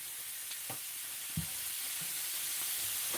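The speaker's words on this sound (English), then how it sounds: "y'all hear that sizzling?" Food sizzles in a frying pan with a constant bright crackling hiss, punctuated by a few soft clinks and stirring knocks nearby.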